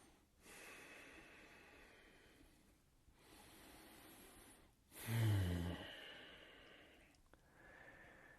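Slow, deliberate breathing during a passive full-body stretching session, several long airy exhales with quiet gaps between them, one louder, heavier breath out near the middle, close and with no talking.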